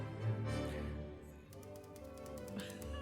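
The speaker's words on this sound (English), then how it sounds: "Oh, I like it. Yes, the typing." Rapid, steady keystrokes clatter from a typewriter over a continuous background bed, forming a busy mechanical tapping rhythm.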